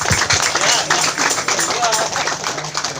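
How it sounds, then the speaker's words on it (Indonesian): Audience clapping for the jury at a randai (Minangkabau folk theatre) event in Solok, a dense steady patter of many hands lasting a few seconds with voices talking over it. "kita beri tepuk aplaus untuk beliau"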